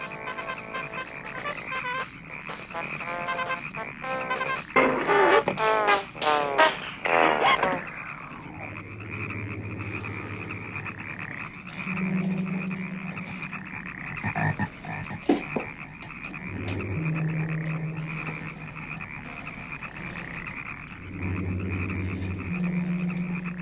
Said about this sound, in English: Then this is where the frogs come into play. The invasion of the frogs.